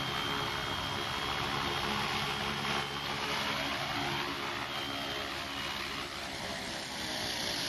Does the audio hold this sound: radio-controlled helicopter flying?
yes